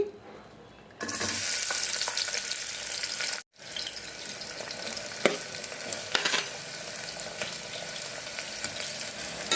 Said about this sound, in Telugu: ఆయిల్ వేసి ఇప్పుడు ఉల్లిపాయ వేసి ఫ్రై చేసుకుందామండి